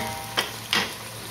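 Onions frying brown give a steady background sizzle, with two short stirring scrapes against the pan standing out close by.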